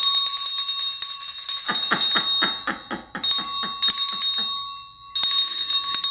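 A bell rings repeatedly in clear, bright strikes, sustained tones ringing out between hits, with short gaps before the ringing resumes; loud and close, no voices.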